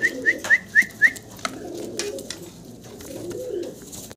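Mundian black pigeons call in a burst of five short, evenly spaced notes near the start, then fall quiet over a low background murmur.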